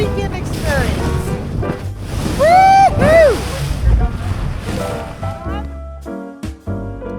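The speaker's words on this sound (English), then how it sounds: "The waves really picked up for our ride back to the boat" A dinghy pounds through rough, choppy waves near Staniel Cay on the way back to the boat, with wind buffeting the microphone and loud voices whooping and shouting over the motion.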